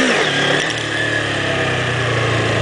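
A motorcycle engine revving up for a wheelie on a practice ride, loud and close, the pitch climbing quickly and then holding a strong, steady roar.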